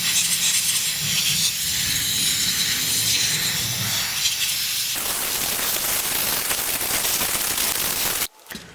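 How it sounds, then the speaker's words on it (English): A compressed-air blower hisses steadily at close range, blowing out the wet, flooded carburetor of a leaf blower, with the rushing air changing character partway through before cutting off abruptly near the end. "So I'm going to grab our air blower here, and we're just gonna blow it out."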